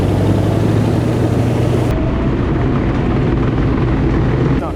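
A Second World War tank engine rumbles loud and steady with a heavy, rough drone, and its tone shifts partway through as if revving down.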